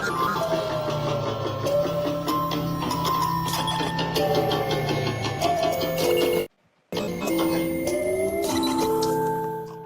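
An electronic track's main melody plays as sustained, gliding synth lines over a dense textured backdrop, continuous and fairly loud, cut off by a brief silence before resuming to the end.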